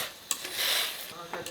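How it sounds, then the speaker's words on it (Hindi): Spoon stirring chilli and garam masala into karela gosht in a cooking pot, a steady scraping swirl with a few sharper knocks, close and moderately loud. "इसको अच्छी तरह मिक्स कर लें।"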